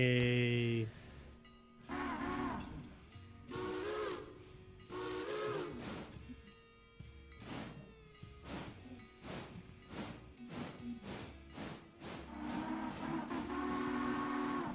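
An IC3 chime train whistle from the Railroader video game sounds as a short tonal blast at the start, followed by a long run of rhythmic metallic clanks and knocks from rail equipment.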